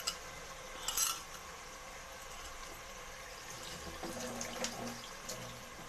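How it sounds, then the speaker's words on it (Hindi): Water poured into a small bowl in a home kitchen while cooking chana dal gosht, a soft steady trickle and splash with a few faint clinks, heard with no talking. "पानी डाल के कटोरी में फिर डाल देंगे इसको,"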